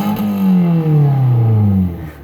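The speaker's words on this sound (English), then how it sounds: "we'll do an exhaust note because it's ridiculously stupid" The exhaust of a lifted Honda CR-V revs loudly and close by in a single sustained rev that rises and then falls away, with no voices.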